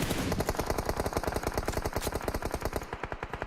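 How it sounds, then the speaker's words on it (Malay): Rapid automatic gunfire from a PUBG Mobile esports match rattles in a fast, even burst of sharp shots, loud and close. It runs for about three seconds before tapering at the end. "Tapi tembakan daripada seorang Stone tajam sekali ke kawasan STX tadi."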